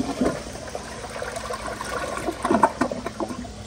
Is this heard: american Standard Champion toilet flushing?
yes